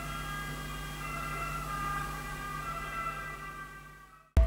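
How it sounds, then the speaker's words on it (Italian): An ambulance siren passing near Genoa, a steady wailing tone heard from a distance indoors, holding fairly even in loudness before cutting off abruptly at the end. "C'è un'ambulanza, ragazzi. È passata un'ambulanza nei pressi di Genova."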